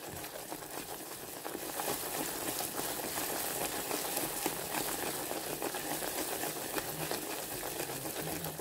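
Butter sizzles and bubbles in hot caramel for caramel popcorn, cooking over a lowered heat on a stovetop. A steady, dense crackling hiss holds at an even level throughout, with no talking.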